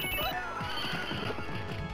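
Horse neighing in a knights-of-the-Round-Table action video game, a drawn-out whinny over hooves and busy game sound, played fairly loud for about two seconds.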